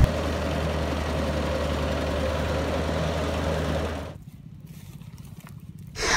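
A tractor engine runs at a steady low rumble near a harvested rice paddy in Mazandaran as the field is prepared for a second planting, then the sound drops away abruptly near the end.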